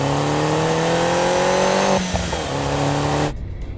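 A sports car engine revs hard and loud, its exhaust note climbing, dipping briefly, then pulling again before cutting off abruptly.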